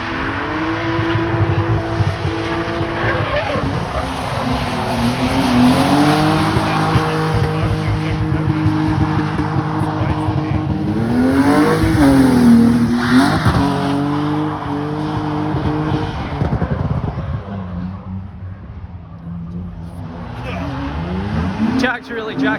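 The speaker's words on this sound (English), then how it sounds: "really jacking the handbrake" Race car in a winter drift battle on a wet track, rain, handbrake pulled hard: engine revs rise and fall across several long slides, with tire squeal and skidding, loud and close; people talk over it throughout.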